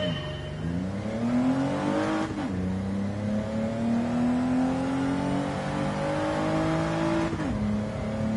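A four-wheel-drive car in Gran Turismo 7 accelerates flat out, its engine note climbing steadily through the gears with two clear upshifts, loud and continuous throughout.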